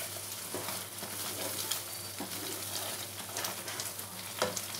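Masala frying in oil over a high gas flame for Kashmiri dum aloo, a steady close crackling sizzle running throughout with occasional sharper pops and scrapes of stirring.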